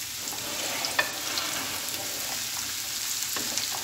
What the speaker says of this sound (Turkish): Şöyle hafif bir sote ediyoruz.